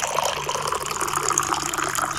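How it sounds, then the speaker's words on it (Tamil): Water pours steadily into a pan of chicken masala, a continuous splashing gush at moderate volume with no voices. "நம்ம கொஞ்சம் தண்ணி சேர்த்துக்கலாம், ஒரு 2 கப் தண்ணி சேர்த்துக்கிறேன்."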